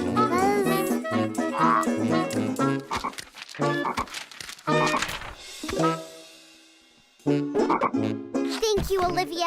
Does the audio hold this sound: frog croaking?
yes